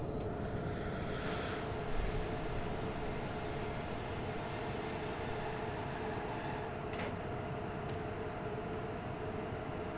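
Train braking in Train Simulator 2015 with a class 110 locomotive: a steady loud rolling rumble with long high brake squeal tones that fade near the end, no talk.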